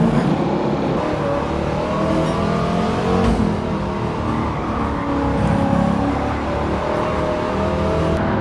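Race car drifting at lower speed in Gran Turismo 7, with a continuous engine note that rises and falls in pitch as the throttle is worked and light tyre noise, loud and close, with no speech.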